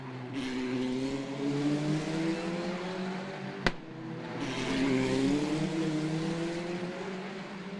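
Formula Regional race cars lap the Macau Grand Prix street circuit in qualifying, engines rising and falling in pitch as two cars scream past in succession, loud and sustained, with a brief sharp bang between them.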